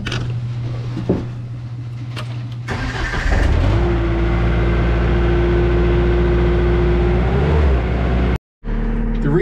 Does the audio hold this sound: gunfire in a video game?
no